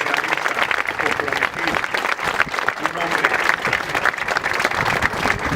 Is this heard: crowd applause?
yes